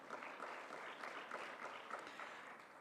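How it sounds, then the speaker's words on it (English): An opening-ceremony audience at a pharmacy students' world congress in Kigali applauds, a faint, distant patter of many hands that rolls on evenly throughout. "Another big round of applause for UNICEF as well."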